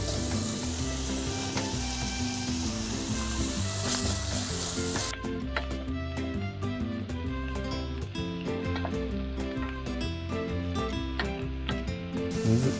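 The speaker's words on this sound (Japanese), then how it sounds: "軽く炒めていきましょう" Ingredients for a consommé soup pasta are lightly stir-fried in a pan at a backyard camp under a tarp, giving a steady close sizzle with music playing throughout.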